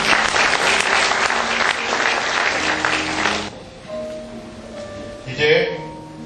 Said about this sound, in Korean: 박수로 격려해 주시면 감사하겠습니다